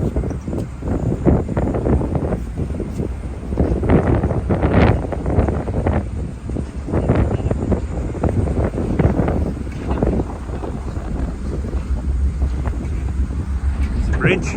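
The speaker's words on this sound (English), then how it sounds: "Hopefully the wind's not too bad." Strong wind buffets the microphone throughout a ferry ride on Sydney Harbour near Darling Harbour, a steady loud roar with gusty swells and indistinct voices mixed in.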